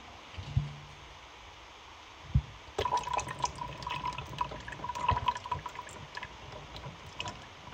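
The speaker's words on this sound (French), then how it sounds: "verser la phase huileuse dedans d'abord. Voilà, je vais tout verser." An oily phase for a facial scrub emulsion is poured into a blender, starting with a few faint drips, then a steady, close liquid splashing and trickling that runs to the end.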